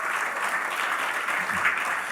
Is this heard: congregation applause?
yes